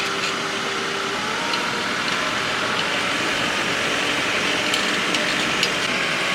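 A John Deere 4720 tractor working in snow, its engine a steady, loud, broadband hum and rumble with faint clicks and rattles, heard close and continuous without any talking.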